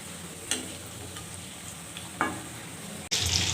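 Chicken leg pieces frying in hot oil, a steady close sizzle with sharp spitting pops as the oil splatters, ending in a louder burst of crackling.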